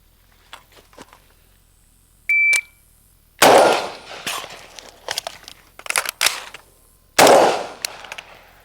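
A shot timer gives a single sharp beep, then an M16A2 rifle fires outdoors at a 50-yard range, two loud close shots about four seconds apart with clicks and handling noise between them.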